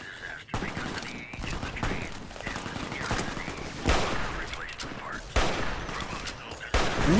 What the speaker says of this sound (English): What the fuck are you two shooting at?